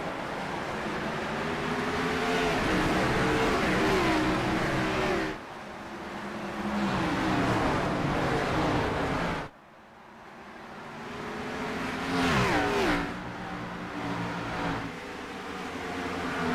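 Engines of NASCAR Cup cars racing at Rockingham Speedway in a racing video game, a loud continuous roar with rising revs, dropping off briefly twice before building again as the pack accelerates.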